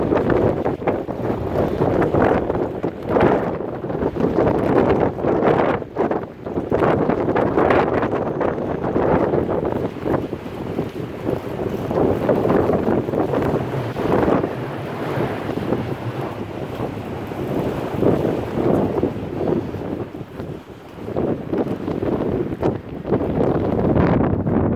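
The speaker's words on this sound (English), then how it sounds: "Wind is really no joke today." Strong wind buffets the microphone at the Meteor Crater observation deck in Arizona, a loud continuous roar with gusty surges throughout and no talking.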